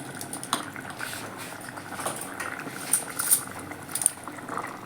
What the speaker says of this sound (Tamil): எல்லாம் ஒன்று கூடி கொதிக்கட்டும். நல்லா கொதிச்சிருச்சு.